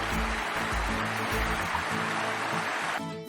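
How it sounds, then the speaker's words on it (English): Loud rushing water tumbles over small waterfalls beside a wooded hiking trail, a dense continuous roar close by with low rumbling surges, tapering slightly at the end. "this hike starts off with plenty of small waterfalls and a lot of rushing water"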